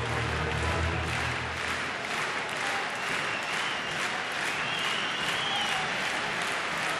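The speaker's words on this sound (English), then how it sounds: "Been a great crowd tonight." Crowd applauding at a night Major League Baseball game between the San Francisco Giants and Chicago Cubs, a dense, steady roar of clapping from a large stadium audience that holds for the full stretch.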